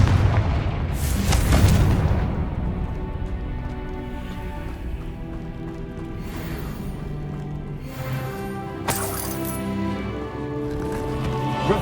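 A Confringo fire spell bursts in Hogwarts Legacy, a loud booming explosion near the start followed by rumbling game sound, with another sharp blast later amid continuous background music and effects.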